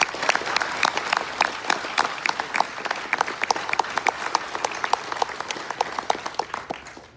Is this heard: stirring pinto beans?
no